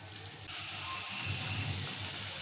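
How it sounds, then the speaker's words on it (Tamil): Samosas fry in hot oil over a medium flame, giving a soft, steady sizzle and bubble that stays faint and even throughout. "இதில் ஒன்றுனா எடுத்து பொரிச்சுக்குவோம்."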